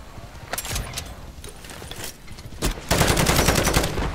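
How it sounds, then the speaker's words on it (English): Bursts of automatic gunfire from a sentry gun in MW3 Zombies come as scattered sharp cracks, then a dense sustained rattle fills the last second or so, loud and close with no speech. "Sentry gun deployed."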